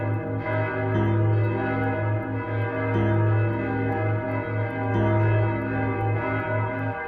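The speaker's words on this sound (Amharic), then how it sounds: "ይሄ ቤተክርስቲያን ደወል" A church bell rings in Malta with loud, sustained tolls that strike roughly every two seconds, each one leaving a rich, humming resonance.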